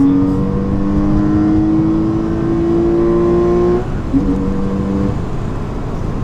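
A modified Porsche Boxster S flat-six engine revs up steadily for several seconds, its harmonic pitch climbing loud and close. The tone drops sharply at a gear change, then the engine pulls again before easing off.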